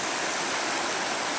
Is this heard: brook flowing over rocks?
yes